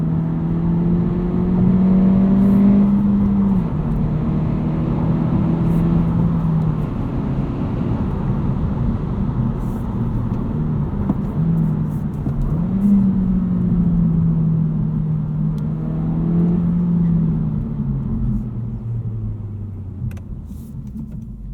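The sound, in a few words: 2022 Honda Civic Si engine in normal mode, driving at night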